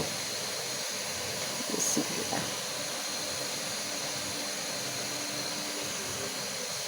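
Green chilies hitting hot oil while frying bitter greens for a Bangladeshi shak bhaji, a steady broad hiss throughout with a brief louder sizzle burst midway, no talking.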